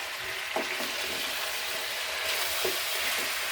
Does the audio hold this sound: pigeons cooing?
no